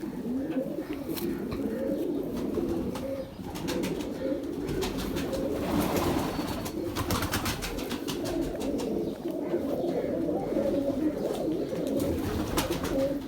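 Steady low cooing of a Hitler breed pigeon, repeated soft throaty calls overlapping continuously, with faint clicks and rustling around them.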